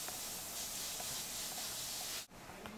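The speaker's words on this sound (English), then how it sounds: "I'm just going to be spraying lightly around the edges with my black to give it that shadowing." Black paint sprayed lightly around the edges of a tattoo-style piece, heard as a steady close airbrush hiss that runs continuously, cuts out briefly near the end, then resumes more faintly.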